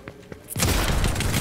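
A Flapjack rifle fires in Fortnite: a couple of soft thumps, then a sudden loud blast that rolls into a dense, sustained burst of gunfire close by.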